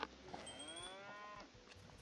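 A cow moos in a Roblox video game, one drawn-out, wavering bovine call lasting about two seconds, fairly loud and alone against a faint background.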